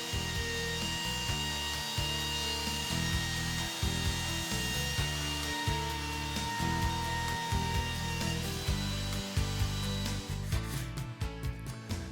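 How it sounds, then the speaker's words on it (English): A power router with a bearing bit whines steadily while trimming a hardboard edge flush with plywood, with its pitch dipping and recovering in repeated passes. The cutting is loud and close, with no talking. "Turn the router on, move the bearing so it's up against the plywood edge"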